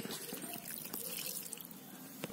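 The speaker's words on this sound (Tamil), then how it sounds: "அடுத்து தண்ணி ஊத்திக்கலாம்." Water trickles and drips into a tiny pot during village-style miniature cooking, just after turmeric powder was added, a soft, steady close pour lasting a couple of seconds with no talk.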